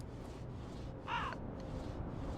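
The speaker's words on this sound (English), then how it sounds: "That spawned another crow somewhere." A crow in the Tomb Raider III game gives one short, clear caw partway through, over a constant low background ambience, with no voices.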